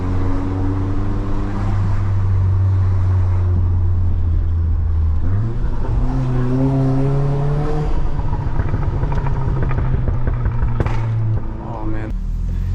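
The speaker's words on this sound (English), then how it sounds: "I have a nasty issue with these cracks and pops" Mk7.5 VW Golf R with a loud exhaust driving through city streets, its steady engine drone rising as it revs, with sharp pops and crackles from the exhaust near the end of the pull.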